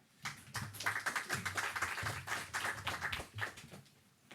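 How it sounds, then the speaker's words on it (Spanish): A small audience at a book presentation during the New York book fair gives a short, quiet round of applause, with scattered, uneven clapping that trails off near the end. "Un aplauso, por favor."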